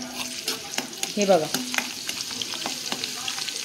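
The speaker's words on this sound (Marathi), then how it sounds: "कसं छानपैकी तडतडलं आहे लसूण, बघू शकता तुम्ही." Garlic crackling and sizzling in hot oil in a pan while being stirred, with close, sharp pops and spatters over a steady frying hiss, and a voice speaking briefly midway.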